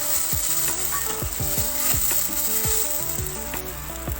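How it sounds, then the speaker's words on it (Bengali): Mustard and poppy seed paste sizzles in a frying pan while pabda fish jhal cooks, a steady, close frying crackle running the whole time with a faint tonal melody over it. "ভালোভাবে সর্ষে পোস্ত দিয়ে দিলাম"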